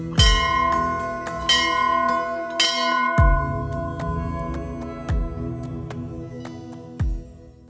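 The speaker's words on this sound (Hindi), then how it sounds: "प्रवेश करते ही आपको दोनों तरफ घंटियाँ बंधी नज़र आ जाती हैं" Temple bells ring at the entrance of Danda Nagraj temple in Pauri Garhwal: a series of separate metallic strikes, each one ringing on and decaying under the next, close and clear, with no talk.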